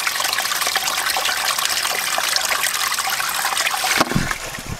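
Water from a hose controlled by a Rainpoint Wi-Fi smart water timer runs in a steady, loud rush for several seconds, then tapers off with a brief splashy change near the end.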